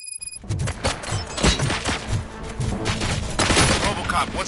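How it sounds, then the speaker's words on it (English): Gunfire in RoboCop: Rogue City crackles in rapid, overlapping bursts with heavy thumps, loud and close, mixed with other game sounds and no pause throughout. "Gunshots? What's going on?"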